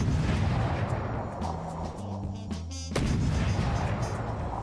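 Heavy cannon fire rumbles continuously in the video game From the Depths, a dense booming roar with a brief lull in the middle before the barrage resumes at full strength.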